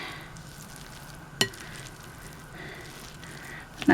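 Rabbit fried rice being stirred in a hot pan, a steady close sizzle and frying hiss with a sharp scrape or clink of the utensil partway through and another near the end.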